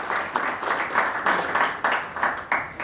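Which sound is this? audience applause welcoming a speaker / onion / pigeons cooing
audience applause welcoming a speaker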